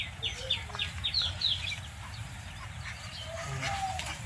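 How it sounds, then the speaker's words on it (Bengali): Two small ducks give a quick run of high, bright peeping calls over a steady low outdoor rumble. The calls come in the first half, then trail off into fainter chirps. "ছোট্ট দুইটা হাঁস, এই দুইটা হাঁস দেখলে আমার খুবই ভালো লাগে।"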